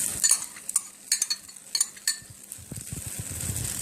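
Mixed vegetables tumble into a hot pan while frying sweet potatoes and chicken luncheon meat, with sharp clatters and stirring scrapes over a steady high sizzle, then softer low thumps as the stirring continues.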